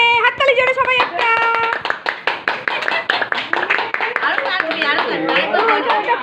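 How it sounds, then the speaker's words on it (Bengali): A room full of people at a little girl's third birthday party clap loudly and steadily in a dense, continuous patter, with people talking and singing over it. "হাততালি জোরে সবাই একটা।"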